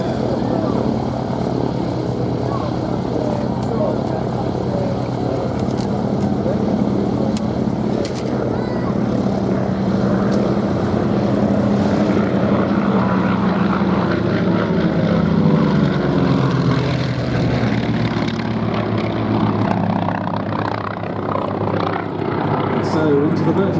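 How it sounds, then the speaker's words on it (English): Piston-engined World War II fighters, a Grumman FM2 Wildcat, Curtiss P-40F Warhawk and Goodyear FP1D Corsair, drone and rattle overhead at an air show, with a steady, swelling propeller roar and a commentator talking over it throughout. "So into the vertical goes the rattling sounding Grumman Wildcat, one of the great naval fighters of World War II"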